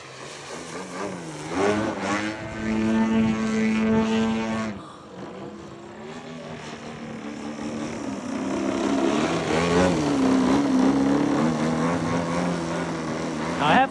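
Extreme Flight 91-inch Extra 300 RC airplane flying overhead, its propeller engine droning and rising and falling in pitch as it maneuvers, steady and moderately loud throughout with a brief dip midway.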